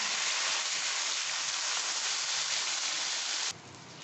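Marinated rice fries in a hot pan with tempering spices, giving a loud, even sizzle that hisses steadily before dropping abruptly quieter near the end.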